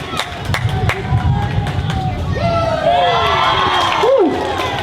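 A parade crowd at the 70th annual Zion Jubilee Days cheers and whoops steadily, with children shouting and loud nearby voices over a continuous roar of the gathered onlookers.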